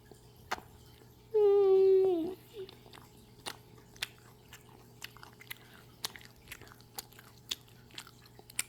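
Someone eats a hamburger-shaped ice cream with cheese, making soft, faint chewing clicks at intervals after a short hummed murmur of a voice.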